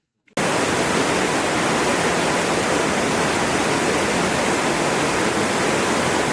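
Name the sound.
Tamara waterfall flowing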